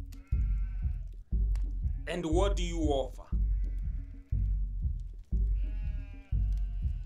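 A nanny goat bleats repeatedly in short, wavering cries at a steady pace, close by, with a voice briefly speaking between the calls.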